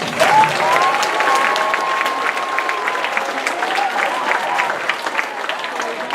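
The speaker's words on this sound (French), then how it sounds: "Une bonne main d'applaudissements pour nos juges." Steady, loud applause from the audience honouring the judges at a Lego FIRST opening ceremony, sustained clapping with a speaking voice carrying over the top.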